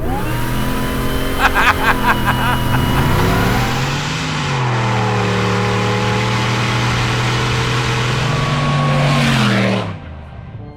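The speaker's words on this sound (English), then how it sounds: "This thing has 2 mufflers and it's still this loud" A Vigilante-built Jeep Grand Wagoneer with two mufflers roars loudly, its exhaust droning and rising in pitch as the engine revs and holds, then cutting off abruptly near the end.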